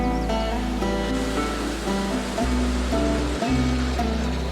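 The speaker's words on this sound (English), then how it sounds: "The sound of water in the midst of wilderness is so relaxing." A mountain torrent cascades through wilderness on a Galtee Mountains trek, a loud, continuous rushing roar close by with tonal music layered over it.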